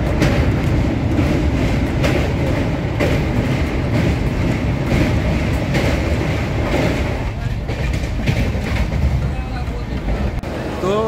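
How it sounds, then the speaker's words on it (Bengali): The Purba Express pulls into Asansol station, a loud continuous rumble of rolling rail cars with rhythmic wheel clatter throughout, while voices talk over it. "পূর্বা এক্সপ্রেসের তৃতীয় স্টপেজ, এই মুহূর্তে ট্রেন আসানসোলে এসে উপস্থিত হয়েছে।"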